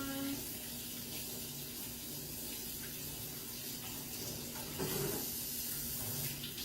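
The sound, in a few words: washing hands under a running tap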